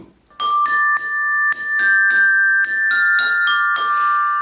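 Bright bell tones struck one after another in a steady, unhurried melody, each note ringing clearly and overlapping the next, with no voices.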